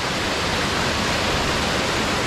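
Water pouring from Brooklands Pond into the sea on an incoming tide, a steady loud broadband rushing like a small waterfall, close and continuous with no speech.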